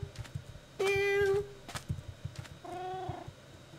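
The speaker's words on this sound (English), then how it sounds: "Okay, kitty's still there, yay!" A cat meows twice inside the Minecraft video game, a long rising-falling call followed by a shorter, softer one, heard over faint game background sounds.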